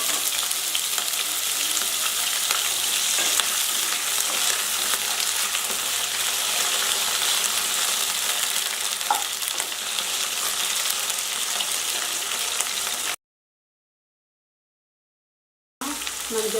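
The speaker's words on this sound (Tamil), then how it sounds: "கருவேப்பிலை பொரிஞ்சதும் கட் பண்ணி வச்சுருக்கிற வாழைக்காயும் சேர்த்துக்கலாம்." Cut plantain sizzles in hot oil with curry leaves, giving a steady, loud, close frying hiss that runs unbroken, drops out into brief silence, then resumes.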